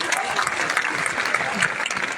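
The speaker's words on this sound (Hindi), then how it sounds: "तहे दिल से शानदार तालियों से सर का वेलकम करें" An audience at a network marketing business event applauds to welcome a speaker, a steady wash of clapping from many hands with faint voices mixed in.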